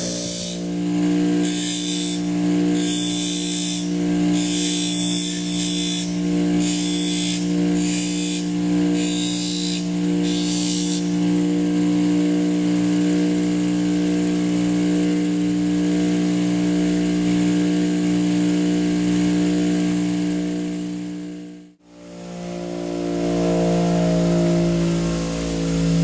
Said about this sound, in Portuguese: concluo aqui agora a afiação da faca de serra